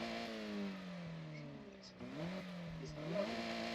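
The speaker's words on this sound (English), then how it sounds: "we can rev the engine. That gives the idea of what the engine sounds like." A car engine in Forza Horizon revs in the garage, a steady mid-pitched drone rising and falling in pitch over a few seconds, with a voice talking over it.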